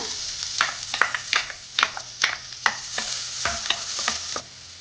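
Finely chopped onion frying in a pan with butter and a little oil, with a steady sizzle and repeated scraping stirs of a spoon at a close, lively rhythm.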